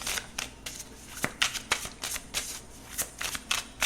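Tarot cards being shuffled for a closing card, a rapid run of crisp riffling bursts at an irregular quick rhythm, close and clear with no talking.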